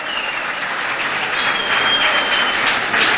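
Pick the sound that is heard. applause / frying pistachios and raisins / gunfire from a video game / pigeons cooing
applause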